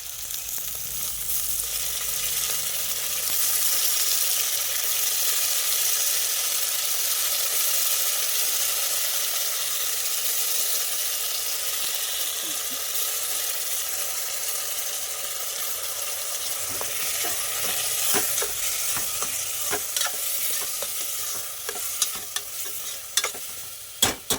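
Soaked moong dal sizzles and fries in a pan, a long, steady hiss with stirring, then sharper scraping clicks of a utensil toward the end, no voices.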